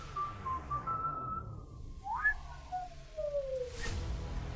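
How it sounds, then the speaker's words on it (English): A single sustained whistle glides slowly downward in pitch, starting steady then sliding lower, with a brief rising chirp in the middle, heard alone over a low background rumble and ending in a soft noisy burst. "A whistle."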